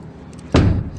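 A heavy door shuts with a single loud thump partway through, followed by a short resonant decay against quiet room background.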